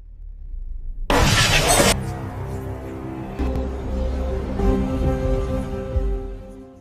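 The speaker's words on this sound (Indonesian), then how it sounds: "peluru menembus kaca dan meledak di dekat kepalanya" A sudden loud burst of a bullet shattering car glass, followed by lingering ringing tones and low rumbling.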